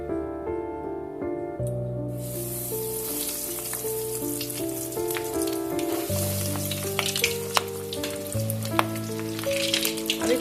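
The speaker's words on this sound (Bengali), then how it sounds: "এখন আমি ড্রামস্টিকগুলো ভেজে নেব।" Chicken drumsticks fry in hot oil in a kadai, with a steady, crackling sizzle that builds after a quiet start. Music plays over it throughout.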